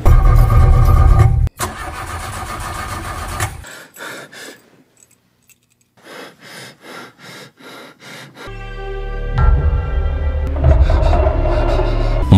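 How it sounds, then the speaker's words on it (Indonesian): A car engine rumbles loudly, then cuts out and goes quiet. Several short, rhythmic cranking bursts follow as someone tries to restart it, and then a loud running roar returns. No voices are heard. "tiba-tiba saja mobil mereka malah mogok"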